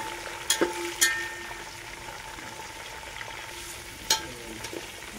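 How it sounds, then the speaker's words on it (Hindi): Onions and peas fry softly in a pan for khichdi, a low continuous sizzle broken by a few sharp clinks and scrapes of a spoon against the pan, with no speech. "प्याज को भून लेते हैं। इसमें मटर डाल दिया है।"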